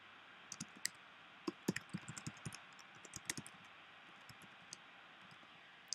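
Scattered keystrokes on a computer keyboard while a report name is typed, quiet close clicks arriving in short irregular bursts with brief pauses between them.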